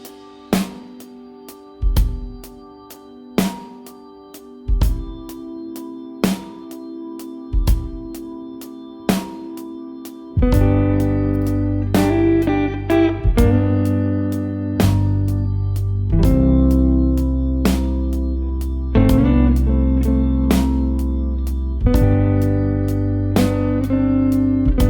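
An electric guitar plays the verse of a song, opening with sparse, evenly spaced chord strums with a ticking click, then swelling into fuller, sustained chords and bluesy bends over a low backing, loud and without talk.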